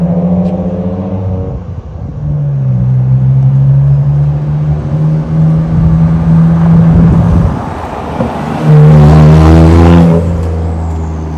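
Car fitted with an aftermarket OTL downpipe drives up a street, its engine droning loudly nearby, easing off briefly, then revving harder before settling again; no one speaks.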